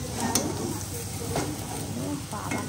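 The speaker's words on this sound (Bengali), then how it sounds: "এদিকে আলু ভাজা হচ্ছে।" Potatoes frying in oil in a home kitchen give a soft, continuous sizzle with occasional stirring clinks, fairly quiet and close, with faint background voices.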